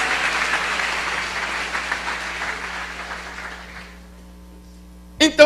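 A church congregation applauds loudly, a dense wash of clapping that slowly fades out, followed by a couple of abrupt knocks at the very end.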